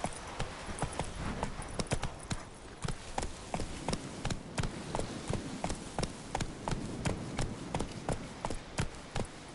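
A horse in the Witcher 3 game gallops with hooves pounding in a regular, driving rhythm of sharp thuds that repeat steadily, close and prominent, with no talking over them.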